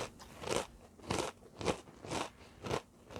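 A handful of Whales crackers crunched in the mouth, five evenly spaced crisp bites close to the microphone, with quiet pauses between them and no talking.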